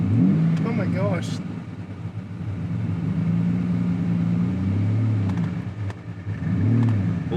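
A Lamborghini Diablo pulls away with its engine revving up and falling back through a couple of surges, loud and close inside the cabin, while people talk excitedly over it.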